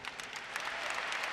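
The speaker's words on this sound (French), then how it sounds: "applaudissez très fort pour vous." A live show crowd claps steadily in a short burst of dense applause, moderately distant and even in level throughout.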